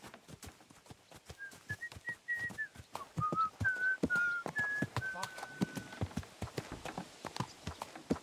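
A rider in Kingdom Come: Deliverance 2 whistles a rising-and-falling tune for a horse over a steady, rhythmic clip-clop of hooves, close and fairly quiet.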